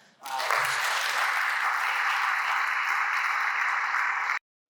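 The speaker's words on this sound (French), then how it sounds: "je voudrais quand même vous inviter encore à applaudir Papa Denis." Steady, dense applause from an audience in a hall after a talk on entrepreneurship and spirituality, holding at an even level for about four seconds before cutting off abruptly.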